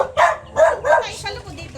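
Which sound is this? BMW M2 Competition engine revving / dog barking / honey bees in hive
dog barking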